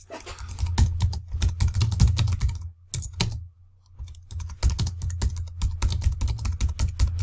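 Rapid typing on a computer keyboard, a steady run of close clicking keystrokes with a short pause in the middle, over a low constant hum.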